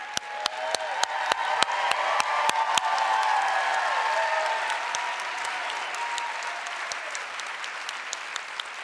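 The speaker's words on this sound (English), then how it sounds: "All right, round of applause." Audience at an Ignite Phoenix slideshow karaoke event breaks into applause, with a few loud close claps standing out over a broad wash of clapping and a little cheering from the crowd.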